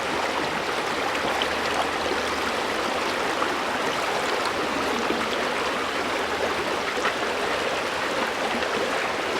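Steady rushing water of a shallow stream where dirt is being washed off a metal-detecting find while prospecting for gold, a continuous close broadband wash with no talk.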